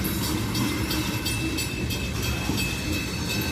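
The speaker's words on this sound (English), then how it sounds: "And now we have tankers here now." Freight train of tank cars rolling past a railroad crossing, a loud steady rumble of wheels and cars with faint rhythmic clatter, close by and continuous.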